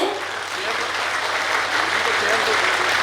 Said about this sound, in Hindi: दीदी के लिए जोरदार तालियां बजाइए